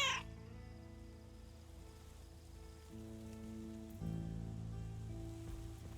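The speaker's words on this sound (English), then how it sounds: "we cannot pet the cats in this game." Cats meowing in a cosy 1980s small-town video game: a short high meow at the start, then soft sustained tones over a steady background hush.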